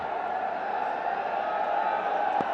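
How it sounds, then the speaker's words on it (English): A large stadium crowd at a Bangladesh Premier League T20 cricket match keeps up a steady distant roar of cheering and noise, with a commentator's voice faintly audible beneath it. "Wonderful crowd in as well."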